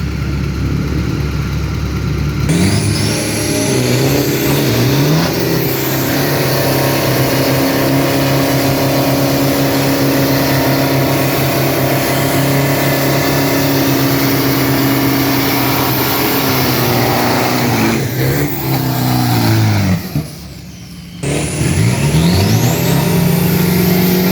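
A 1600 kg street truck tuned by a Nakhon Pathom mechanic, fitted with twin shocks and Bo 3000, revs loudly on a drag strip, its engine note rising and falling before a brief drop out and then a roar back up.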